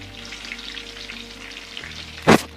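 A whole batch of eggplant pieces frying together in oil, giving a continuous close sizzle with a sharp clatter near the end as they are stirred.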